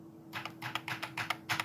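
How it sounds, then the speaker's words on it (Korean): Several quick, light keystrokes tap out on a computer keyboard, pressing the Tab key one after another in a quiet room with a steady low electrical hum underneath. "키보드에 탭 키를 한 번씩 누를 때마다 줄 바꿈이 됩니다"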